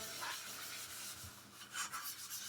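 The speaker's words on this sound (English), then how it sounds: "So you take it, rub that stain where you think it's too dark" Wood stain being rubbed down with a 3M maroon abrasive pad to lighten dark areas: a faint, steady rasping scrub made of several short strokes, heard alone and close up.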